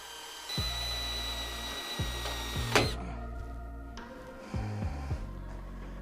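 A power drill whirs in several short bursts, grinding and straining through a thick steel frame on a Toyota while fitting a skid plate, with a sharp high squeal midway as the bit breaks, and pauses between runs.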